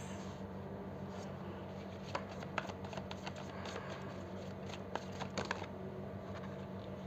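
A deck of tarot cards being shuffled by hand: a run of soft, quick papery riffles and light taps, close and quiet against a steady low background hum.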